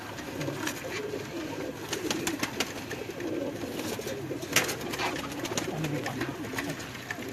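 Pigeons in a loft or rooftop setting in Lahore coo steadily over a busy background of rustling and flutter, with soft overlapping calls running throughout at moderate level and no talk.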